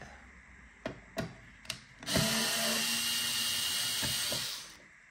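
Lidl electric screwdriver backing out cross-head screws: a few short buzzing bursts, then a longer sustained whirring run of about two and a half seconds, close and fairly quiet.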